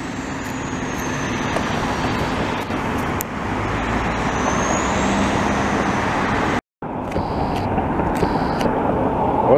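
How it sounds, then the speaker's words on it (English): An older Montreal STM city bus rolls by with a steady low engine and road rumble, a thin whining squeal from a wheel fault rising and falling over it; a brief dropout, then high-pitched repeating tones. "It's making a funny noise there. Something in the wheels, I guess."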